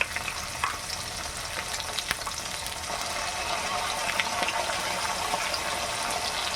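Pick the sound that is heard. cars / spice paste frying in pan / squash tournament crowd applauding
spice paste frying in pan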